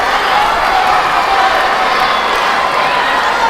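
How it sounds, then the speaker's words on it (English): Tennis crowd at a Somdev Devvarman versus Ramanathan match cheering and applauding, a steady loud roar of voices and clapping that fills the space without pause. "Crowd getting into it."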